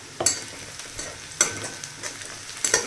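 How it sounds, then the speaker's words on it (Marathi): Onion sautéing in a pan over a full-high gas flame, a soft sizzle underneath with a few sharp scraping stirs of the spatula spaced about a second apart, fairly quiet and close. "तर इथं कांदा आपला छान परतून होतोय. गॅस फुलच असू द्या"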